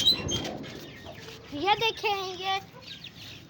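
A hen that had been sitting on eggs gives a short run of nearby clucking calls mid-clip, after a person speaks briefly at the start.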